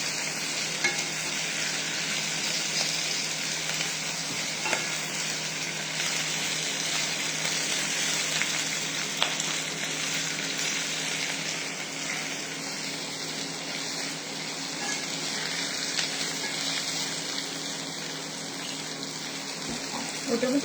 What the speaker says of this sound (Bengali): আর একটু ভালো করে এগুলো নেড়ে নিচ্ছি, কারণ আদা রসুনের একটু কাঁচা ভাবটা চলে গেলেই